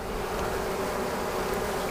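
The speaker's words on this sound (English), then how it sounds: "But there are lots of bees," Honey bees hum around an open Langstroth hive during a spring inspection, a soft continuous drone with a steady tone and no voices.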